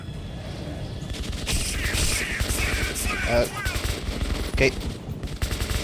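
Bursts of automatic gunfire from Metro 2033 crackle continuously at moderate distance, mixed with clanks and a brief spoken word layered over the shooting.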